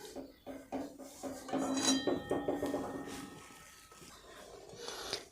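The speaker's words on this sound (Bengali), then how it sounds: "এরপর আমি এর উপরে একটি ঢাকনা চাপা দিলাম" A lid set onto a cooking pan holding an anchovy fish curry, with a series of close metallic clinks and clatters of metal kitchenware, followed by a quieter stretch.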